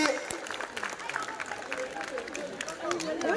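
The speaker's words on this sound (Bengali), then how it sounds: "হাততালি।" Applause from an audience at a college model exhibition prize ceremony, a dense, steady wash of clapping over the full stretch with crowd murmur mixed in.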